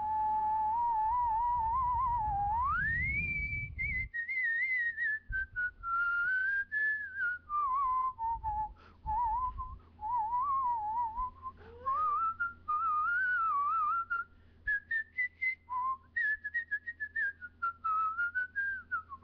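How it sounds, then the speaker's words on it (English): Someone whistles a long, clear melody from Rhapsody in Blue, gliding up and down through phrases with short breaths between them, close to the microphone, unaccompanied and without speech. "I just whistle constantly"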